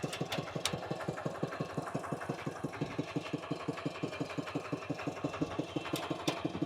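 A small single-cylinder engine idles with a steady, rapid chugging pulse, close by and running alone without any voices.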